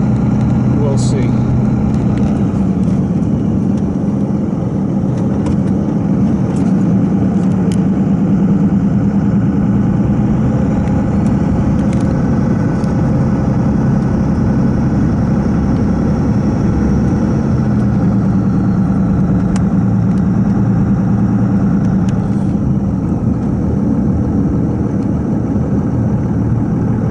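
The 24-valve Cummins turbo diesel in a Dodge Ram 2500 runs with a loud, steady low rumble that continues without a break throughout.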